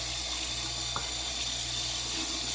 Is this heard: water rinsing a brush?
yes